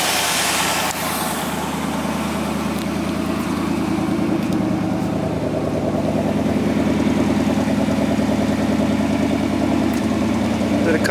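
A fire engine idles during a road-ready inspection, a loud, steady diesel rumble holding constant throughout at close range, with no talking over it.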